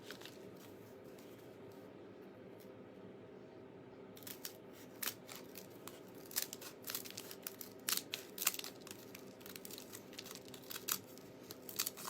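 Scissors cut paper in short, close, crisp snips, quiet at first and then a scattered run of sharp crunching cuts with uneven rhythm and no speech.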